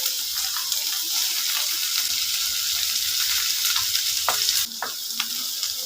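Capsicum sautés in a pan with small onions and garlic, producing a continuous bright sizzle broken by a few light clicks of a stirring spoon. The frying stays close and even throughout, with no talking.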